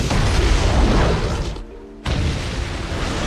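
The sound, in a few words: explosion of helicopter crashing into hotel in film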